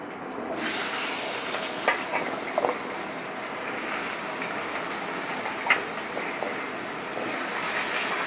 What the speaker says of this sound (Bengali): এবার আমি আলুটা ছেড়ে দেবো এর মধ্যে।